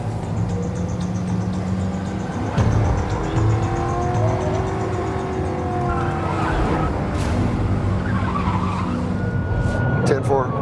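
A Dodge Charger police car of the Alaska State Troopers accelerating hard during a high-speed chase, its engine roaring steadily with a rising tone and tire noise, under continuous narration and radio talk.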